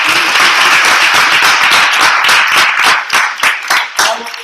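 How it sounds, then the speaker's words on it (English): A round of applause for behind-the-scenes staff at a training talk: dense, loud clapping from a crowd, close and continuous, thinning into separate claps near the end, with no speech over it. "So I'd like to give them a round of applause."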